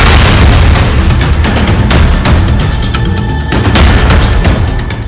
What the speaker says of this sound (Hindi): खुशी के माहौल में खौफ की गोलियों की आवाज गूंजने लगी